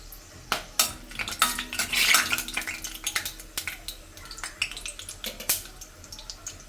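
Curry leaves frying in a pan give a busy, close crackle and sizzle mixed with repeated metallic clinks and scrapes of a spoon against the pan.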